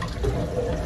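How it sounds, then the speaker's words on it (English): Water drains and gurgles from a toilet tank while a slowly filling toilet's fill valve is being replaced, a brief close rushing wash with no voices. "Drain some water down to make sure that the water is off."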